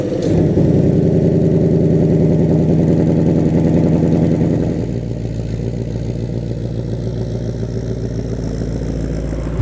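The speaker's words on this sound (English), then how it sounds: "starting up this car every single time is an occasion" A Ford Mustang GT convertible engine fires up and settles into a loud, deep, throbbing idle close by, with a burst of revs at start that eases into a steady rumble after about five seconds; no talking.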